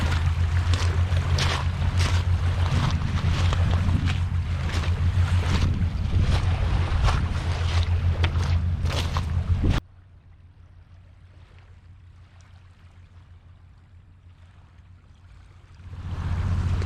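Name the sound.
ferry being offloaded at a ferry terminal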